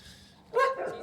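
A single dog lets out a short, sharp bark from a short distance outdoors, one quick yelp-like burst after a moment of near quiet.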